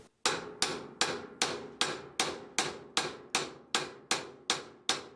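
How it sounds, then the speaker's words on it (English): A ball peen hammer strikes the U-joint cap on a Jeep JK axle about a dozen times in an even, rapid rhythm. Each hit is a sharp, close metallic knock that quickly fades. "Better to get a smaller, like a ball peen hammer, something that'll just hit the cap."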